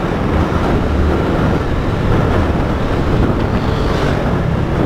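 Loud, continuous roar of wind buffeting the microphone over a steady engine hiss from a Honda Biz 125 motorcycle at speed; no talking.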